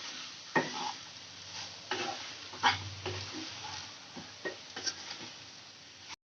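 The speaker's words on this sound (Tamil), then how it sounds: "இதை நல்லா கலந்து விட்டுக்குங்க." Raw banana puttu being stirred in a pan, a soft scraping with a few louder spoon knocks over a faint background hum, close and alone without talk.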